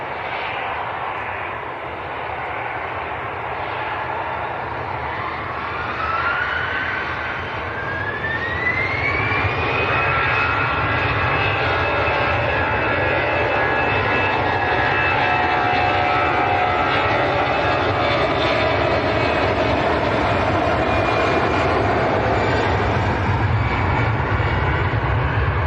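Business jet climbing steeply after takeoff from Manchester Airport, a loud sustained jet roar with a rising whine that builds and holds steady.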